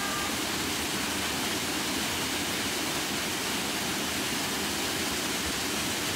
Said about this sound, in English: You are behind the waterfall.